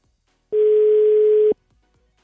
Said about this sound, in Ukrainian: Має підняти слухавку.